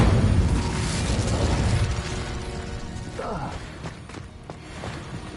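The Incendio fire spell in Hogwarts Legacy erupts with a loud, rumbling burst of flame that fades over about two seconds. Faint creaks and small pops follow.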